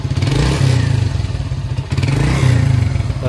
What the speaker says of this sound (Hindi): तो अभी लगा दिया एग्जॉस्ट और अभी इसका साउंड सुनिए आप,